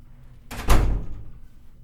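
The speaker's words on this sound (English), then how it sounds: "now you can move the door attachment to the floor" A resistance band door attachment is shifted against a door, giving one dull, heavy thud and brief rattle up close, then quiet room tone.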